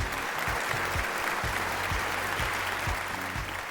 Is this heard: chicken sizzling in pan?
no